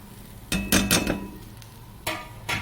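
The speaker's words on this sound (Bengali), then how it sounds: "হালকা করে নেড়ে চেড়ে নেব।" Fried semolina is stirred into browned ingredients in a pan for upma, heard as a few short scraping and clattering strokes of a spoon against the pan over a low sizzle.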